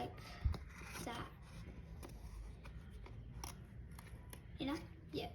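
Scissors snip around paper circles, producing a run of soft, close cutting sounds with brief rustles of paper, fairly quiet, with a voice occasionally heard faintly in the background.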